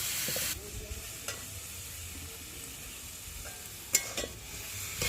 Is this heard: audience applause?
no